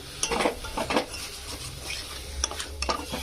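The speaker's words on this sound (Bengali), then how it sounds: "এবার আমি আরেকটু ভালো করে কষে নেবো" Potatoes being stir-fried with spices in a pan, a spatula scraping and stirring in several quick bursts over a low frying sizzle, close and moderately loud with no talking.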